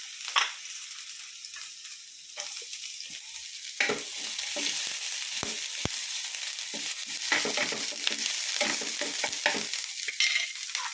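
Onion, green chili and ginger sautéing in a pan for an egg and spinach thoran, a steady soft sizzle with scraping stirring strokes, no talking.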